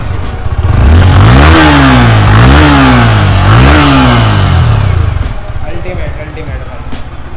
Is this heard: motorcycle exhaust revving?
yes